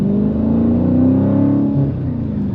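A 2023 Dodge Challenger Shakedown Edition with a 6.4L Hemi V8 and six-speed manual gives a deep, steady engine drone that rises slightly in pitch, loud and close from inside the car, with no voices.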